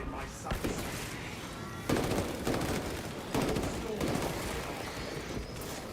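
Heavy bolt pistol fire rattles in Space Marine 2, repeated sharp blasts and bursts over a busy battle din, with a voice talking over parts of it.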